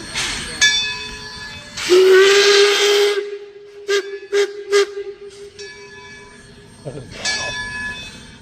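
At a railroad museum, a steam locomotive gives a loud sustained whistle followed by short toots and bursts of steam hiss, with people talking nearby between blasts.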